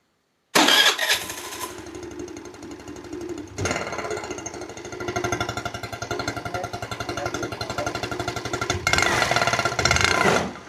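A scooter engine starts up nearby with a sputtering crank, then settles into a rapid, rattling idle that rises in bursts of revving, loud and close with no talk over it.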